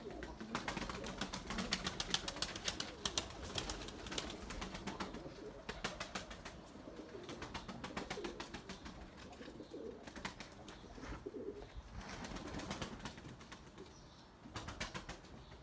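Tumbler pigeons coo softly and flap their wings in repeated bursts, close by and fairly faint, with no voices.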